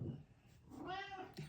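A pet cat lets out a single drawn-out meow, close and fairly loud, rising and falling, with a soft rustle before it and a brief thump at the end.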